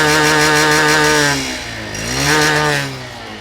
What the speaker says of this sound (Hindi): मैं चाहता हूं कि आप इसकी एग्जॉस्ट नोट यहाँ पे जरा सुने